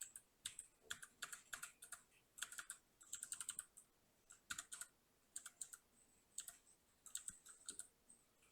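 Keys on a computer keyboard clack in quick bursts as Windows shortcut combinations are pressed, with crisp close clicks grouped in irregular clusters against a quiet room.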